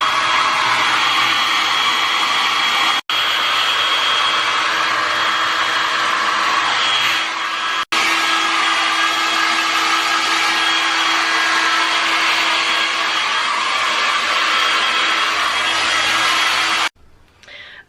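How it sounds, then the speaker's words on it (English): Hair dryer blowing steadily at close range, a loud continuous whoosh that cuts out briefly twice before switching off near the end. "I'm gonna try to hit it with the blow dryer"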